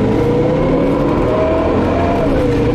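A car on a test run after a transmission rebuild with a shift kit gives a loud, continuous engine drone from inside the cabin, steady with slight pitch shifts as it drives.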